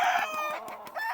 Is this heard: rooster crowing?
yes